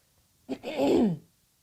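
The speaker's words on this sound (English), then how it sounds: "Clear my throat." A single short throat clearing, close and fairly loud, with a rough rasp lasting under a second, then quiet.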